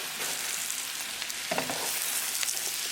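Sauteed taro root (arbi) with masala is stirred in a frying pan with a spoon, giving a soft, continuous sizzle with light scraping strokes and occasional spoon taps, close and alone.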